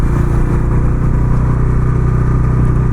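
Bajaj Pulsar NS 400 motorcycle engine on a test ride, loud close-up steady thrum with a strong low pulsing beat, held at an even pitch throughout without speech.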